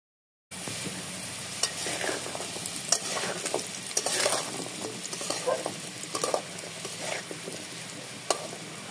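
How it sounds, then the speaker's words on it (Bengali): Potatoes fry in hot oil for a prawn and potato curry, making a continuous close sizzle with intermittent spatula stirs and scrapes after a brief silent start, and no talk. "আলুগুলোকে খুব ভালো মতো ভেজে নিয়ে"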